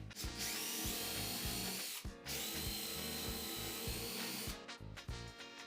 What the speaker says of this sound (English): Next, we drill a hole in it